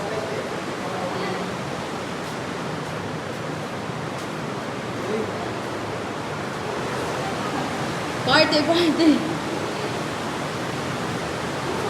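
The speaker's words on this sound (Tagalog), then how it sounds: "Naririnig ko na ang tubig." The Tinapak river flows with a steady broadband rush of water, continuous and fairly loud, with brief voices speaking near the end.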